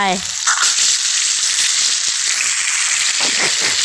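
Food sizzling in a pan in a Toca cooking video game, a steady loud hiss of frying that runs without a break, close up, with no talking over it.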